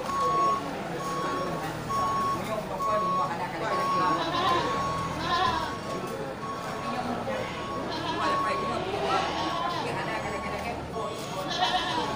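Goats, including a large billy goat, bleat intermittently amid a busy livestock market crowd, with people talking and a steady reversing beep sounding in the background.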